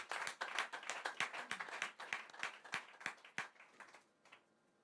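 A church congregation claps and cheers during a French-language sermon, a dense run of sharp, fairly close hand claps that rises to a peak and then thins out and fades near the end.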